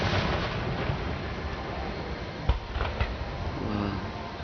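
Fourth of July fireworks boom and crackle at a distance over a steady rushing background, with a couple of sharper bursts near the middle and no close talk.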